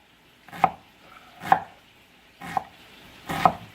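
Onions are chopped on a cutting board in four distinct, evenly spaced knife strokes, each a crisp close thud with short pauses between.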